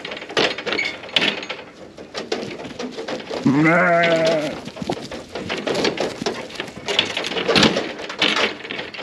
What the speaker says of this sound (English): I'm just going to go back through these cull ewes one more time.